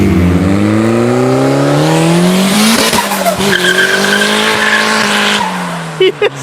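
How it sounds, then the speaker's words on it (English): A turbocharged Honda Civic on brand-new tires skids with loud, sustained tire squeal over a roaring engine, the screech rising and wavering before cutting off abruptly, with voices shouting faintly underneath. "just fucking shredding my tires. They're brand new tires in that sucker."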